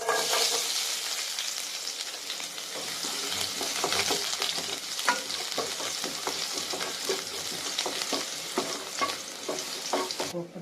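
Garlic and mustard seeds frying in a kadai give a steady loud sizzle, with frequent scraping and stirring clicks from a utensil throughout, close up and with no talking.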